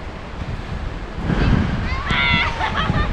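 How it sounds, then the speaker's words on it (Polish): Children splash and play in a shallow water play area in a small park in Gdańsk: a steady wash of sloshing and splatter that grows louder midway, mixed with distant children's voices and wind on the microphone. "Pluskają się w wodzie."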